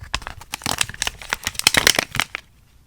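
Crisp plastic crinkling and rustling in rapid bursts, close by, as a Christmas stocking-shaped plastic zipper candy bag is handled, then fading to quiet near the end.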